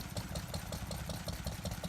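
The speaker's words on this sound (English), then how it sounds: "No show would be complete without a collection of stationary engines." A stationary engine runs at a tractor show with an even, rapid chugging beat, a steady mid-to-low idle with regular firing pulses heard at moderate distance.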